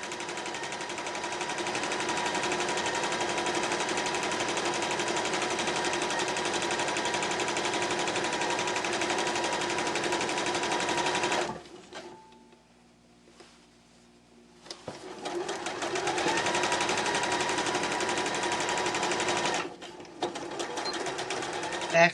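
A sewing machine stitching the bottom of a fabric bag, a steady fast whirring run that stops for a few seconds of near silence, then starts again and runs before ending in short bursts.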